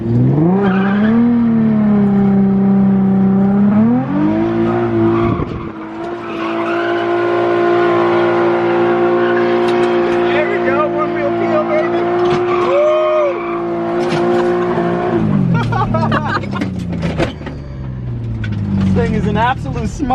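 An open-diff drift car accelerates hard with sustained tire squeal and a revving engine, loud and close, the squeal rising and falling as the tires spin, with people talking over it.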